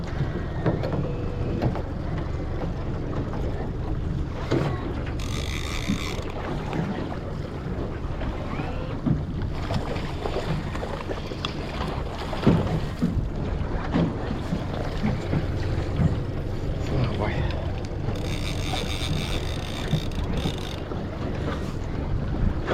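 A passing motorboat's engine rumbles steadily over water, heard from a fishing boat, mixed with heavy wind buffeting the microphone and splashing waves throughout.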